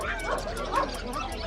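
Dogs at the Sonpur fair dog market yip and bark in a quick, busy run of short calls, close and fairly loud, with crowd murmur and voices mixed in behind.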